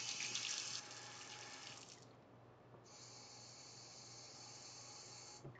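Tap water runs into a small dish in a kitchen while dumplings are being made, a soft steady hiss of flow that cuts off briefly and resumes, quiet and close with no talk.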